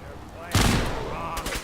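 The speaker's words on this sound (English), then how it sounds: "Shoot him, Nick. Shoot him" Gunfire in the video game Fallout 4 comes as a sudden loud burst of shots midway through, then a second shorter burst follows. Faint talk sits underneath.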